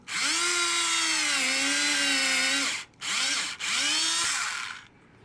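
A power drill whines at high speed in three bursts while drilling into timber, the pitch dipping as the bit bites in, with short pauses between runs.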